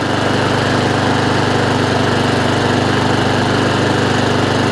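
A Honda IZY lawn mower engine runs continuously, its steady buzzing drone close and loud, hunting and surging slightly as the revs waver, with no talking over it.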